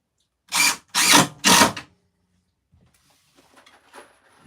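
Three short, loud bursts of a power drill sinking screws into a wooden table, close by, followed by quieter handling clatter.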